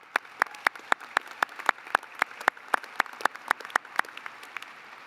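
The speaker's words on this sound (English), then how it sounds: "So once again, another round of applause." Applause at a College of Dental Medicine postdoctoral graduation ceremony, heard as a steady rhythmic run of crisp, evenly spaced claps over a soft diffuse background of hands.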